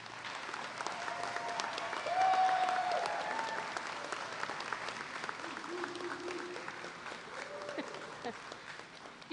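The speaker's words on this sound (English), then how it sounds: "join me one more time with another round of applause for our 2026 high school equivalency graduates" Applause from the crowd at a 2026 high school equivalency graduation ceremony at East Central College, sustained clapping with a few cheers and whistles, steady throughout.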